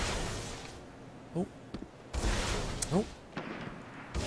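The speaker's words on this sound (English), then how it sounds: "I'm going to take a couple pop shots at the guy here." Gunfire in the video game Destiny: a few loud, sharp blasts spaced a second or so apart, ringing over steady game ambience, with a brief spoken exclamation.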